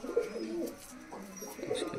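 A Makoya pigeon, a Malwai breed, coos in soft, low, repeated throaty calls, close and alone over about two seconds.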